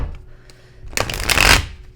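A brief riffle of tarot cards being shuffled, a quick crisp burst of flicking near the end after faint handling noises.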